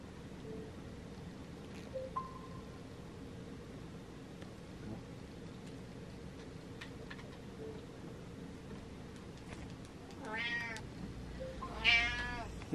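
A hungry cat meows twice near the end, close and fairly loud, after a long stretch of quiet room noise.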